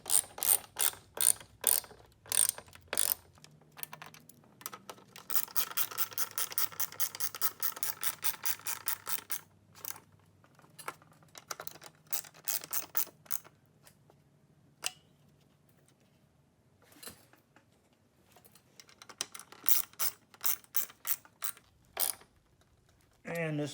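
Ratchet wrench tightening a bolt on a 1980-84 VW Vanagon Westfalia seat, close rapid clicking in repeated bursts separated by short pauses, with faint background noise between strokes.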